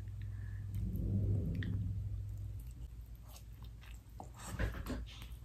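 Someone takes bites of oversized sushi, with soft chewing and moist squishing up close, a low rumble underneath and a sharper crunchy bite near the end.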